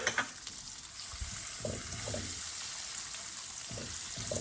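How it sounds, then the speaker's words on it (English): Unsalted butter stirred into hot caramelized sugar off the heat for peanut brittle, a faint steady sizzle with a few soft stirring scrapes. "I'm going to add 2 tablespoons of unsalted butter. I'm going to mix that in."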